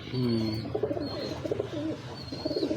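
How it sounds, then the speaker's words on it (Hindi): A Teddy pigeon of the Ferozpuri breed coos close by, a few low, rolling calls in short bursts with no speech over them. "ये कबूतर अच्छा टैडी कबूतर है।"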